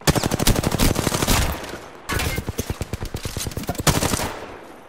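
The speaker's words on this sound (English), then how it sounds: "someone's in there now and they have a gun. A Spitfire, to be more precise" Rapid sustained automatic fire from a Spitfire light machine gun in the Apex Legends battle royale game, loud and near, in two long bursts with a short gap near the middle.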